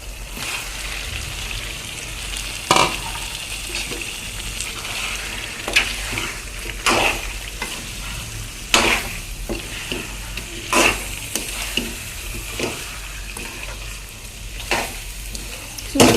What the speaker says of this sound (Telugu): కలుపుకొని నూనెలో ఒక పది నిమిషాలు వేగనివ్వాలి